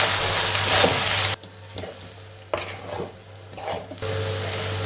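A spoon scrapes and stirs cooked rice in a pan for fried rice, giving several short clinks and scrapes with quiet gaps between them, close by and without talk.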